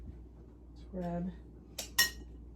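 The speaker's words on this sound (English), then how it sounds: "our spatula and get the rest of that out" Spatula scraping pumpkin bar batter from a bowl: a short scrape followed by two sharp utensil clinks against the bowl, close and fairly quiet, with a voice briefly audible.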